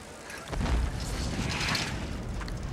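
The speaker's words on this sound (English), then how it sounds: "All units, report of a possible gas explosion" A deep, muffled explosion boom rumbles in a TV drama, reported as a possible gas explosion, rising suddenly and lingering as a broad low roar heard from a distance.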